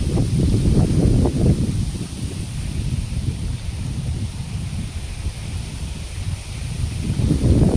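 Wind blows across the microphone in a continuous low rumble, gusting stronger at the start and end.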